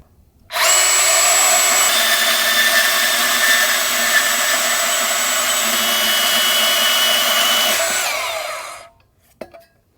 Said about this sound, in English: if I just cut this pipe back and weld another one onto it